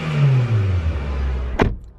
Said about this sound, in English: he proceeds to rev the car, which this is the rev